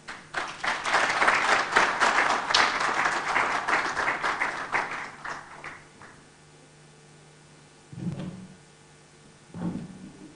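Audience applause at a food systems talk in Africa, many hands clapping in a full, loud burst for about five seconds that fades out, followed by a quiet room and a couple of brief low thumps.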